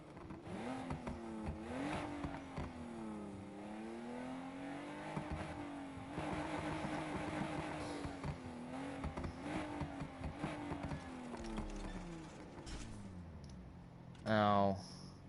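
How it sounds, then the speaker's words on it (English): A video game car engine revs up and down repeatedly, whining through rising and falling pitch, with a brief loud burst near the end. "This car does not sound too good."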